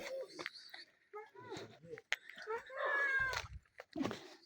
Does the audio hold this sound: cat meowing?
yes